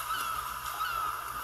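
Geese honk softly in the Alba: A Wildlife Adventure video game, a faint, steady run of nasal bird calls heard alone over a quiet background.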